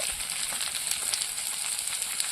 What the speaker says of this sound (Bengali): আর হলুদ দিয়ে ভালো করে কষিয়ে নেব।